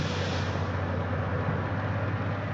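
A loud, steady low locomotive engine rumble with a constant droning hum, heard with the cab door open in the train game Derail Valley, running continuously without a break.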